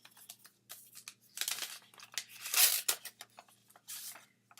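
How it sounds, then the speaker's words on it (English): A greeting card envelope being torn open by hand, a run of close, crisp paper rips and crinkles in irregular bursts, loudest near the middle, with no talking. "let me open up my card."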